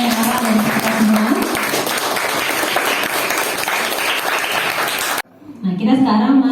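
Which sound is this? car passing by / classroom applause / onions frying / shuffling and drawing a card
classroom applause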